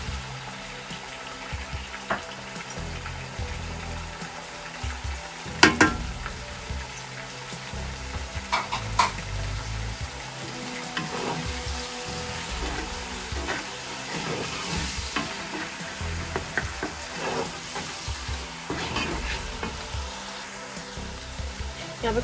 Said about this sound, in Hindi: मसाले डाल के अच्छा से इसको भून लेंगे हम।